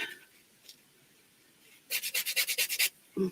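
A burnisher is rubbed on a sanding block, scraping back and forth in about ten quick, rhythmic strokes, close up, after a quiet pause.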